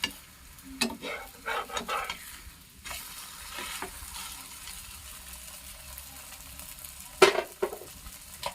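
Wheat-flour pudla, thin Gujarati savoury pancakes, cook on a pan and are flipped to the other side. A soft steady sizzle sits under scattered scraping and clinking taps, with a sharper clatter near the end.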